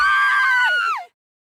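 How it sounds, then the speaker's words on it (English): A scream rings out in The Hundred Line: Last Defense Academy, one loud, sustained cry lasting about a second that bends downward and cuts off into silence. "All of a sudden, I could hear screaming."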